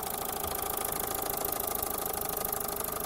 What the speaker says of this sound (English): a small electrical generator that's taking the rotational motion produced by the steam engine